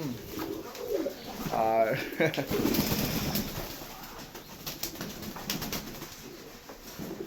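Local Indian fantail pigeons coo in soft, rolling throaty calls near a spot where they are being given water to bathe, while a person talks quietly over them.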